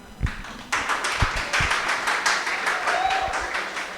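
Audience applause fills a gathering hall at a religious meeting, starting after a few soft taps and holding as steady, dense clapping for several seconds.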